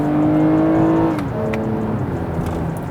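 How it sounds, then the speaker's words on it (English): A 2022 Toyota Camry XSE V6 with TRD catback exhaust accelerates hard in sport mode with a rising exhaust note, shifts gear in its 8-speed transmission, then pulls again, loud and close throughout. "It's got this TRD catback exhaust and it pulls really hard"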